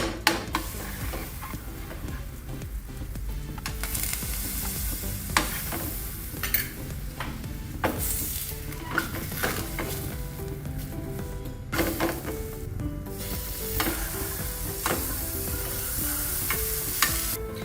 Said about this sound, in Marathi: आता आपण पराठा भाजायला घेऊया. बाजूने थोडंसं बटर सोडायचं.